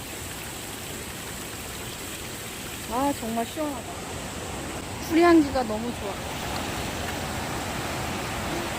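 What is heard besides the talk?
small mountain waterfall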